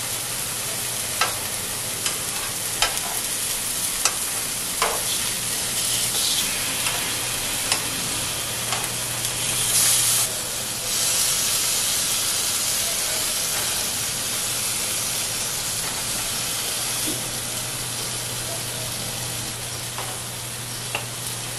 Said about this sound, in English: I'm going to cook my tomatoes